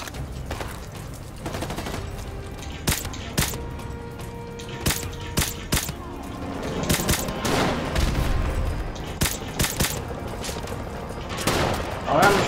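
Gunfire from an MP5 submachine gun in the video game Call of Duty Modern Warfare Remastered, heard as repeated sharp bursts and single shots spread through the clip over a steady game background, with no speech.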